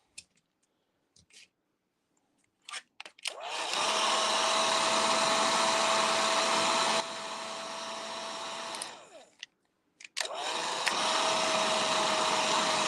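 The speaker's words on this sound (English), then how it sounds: "I'm just heating this embossing powder up" A heat tool blowing on embossing powder while making balled headpins, with a few clicks, then a loud steady fan roar that runs for several seconds, steps down in level, cuts off, and starts again near the end.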